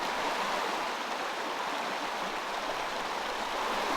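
Cold running water flows steadily in a garden stream, a dense, even rushing that stays close and constant throughout with no voices.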